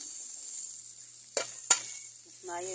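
Cabbage sizzling in a frying pan gives a steady hiss throughout, with a couple of brief scrapes as it is stirred and a short voice near the end.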